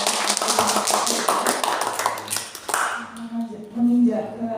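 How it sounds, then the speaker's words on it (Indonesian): Seminar audience clapping in a hall, a dense wash of applause lasting about three seconds and then fading while a voice carries on over it. "kita berikan aplaus dulu"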